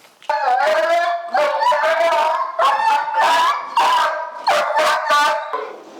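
A dog barks repeatedly and loudly up close, drawn-out yowling barks in a steady series, almost howling.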